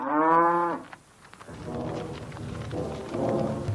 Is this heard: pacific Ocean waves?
no